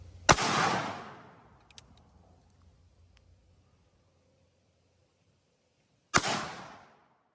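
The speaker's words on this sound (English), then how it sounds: "Made famous by Dirty Harry, the 44 Magnum was once the most powerful handgun round in the world" .44 Magnum handgun shots fired at a coconut, two loud sharp reports several seconds apart, each followed by a long decaying outdoor echo, with a faint click between them.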